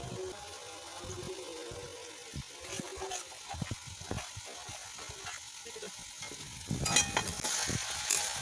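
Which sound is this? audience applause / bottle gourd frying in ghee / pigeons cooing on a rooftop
bottle gourd frying in ghee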